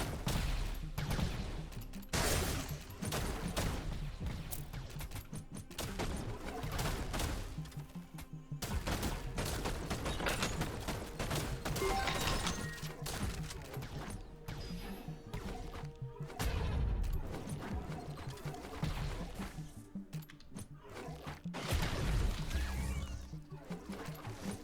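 Enemy gunfire rattles in rapid, overlapping bursts of shots and heavy impacts in the looter roguelite tower defense game Dust Walkers, continuous and fairly close, with occasional louder crashes.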